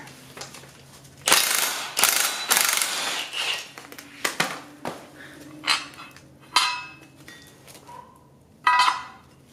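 A ratchet removes a 19 mm bolt during a front suspension rebuild on a 1997–2001 Honda CR-V, with bursts of loud, close clicking and separate metallic clanks between pauses.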